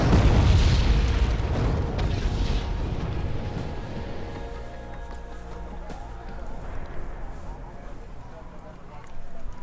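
Two 1,000-pound bombs dropped by an F-16A in the war game Wargame burst with a loud, deep boom at the start, then a second blast, each fading into a long rumbling tail.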